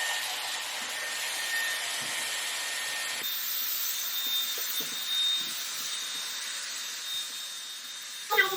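A Dyson Airwrap styler blows steadily while straightening hair, a continuous close airy whoosh with faint brushing rubs underneath, shifting in tone partway through.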